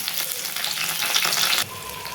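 Onions and tomatoes sauté in a pan for a garlic-pepper tamarind kuzhambu, a dense close sizzle that swells briefly as if stirred, then drops to a softer hiss.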